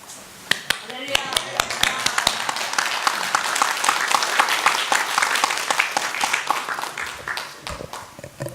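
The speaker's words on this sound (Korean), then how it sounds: "목사님 나오실 때 할렐루야로 환영해 주시고 박수해 주시기 바랍니다" A church congregation applauds at a Korean Sunday service, a dense, loud burst of many hands clapping that swells for several seconds and then thins out, with scattered voices beneath.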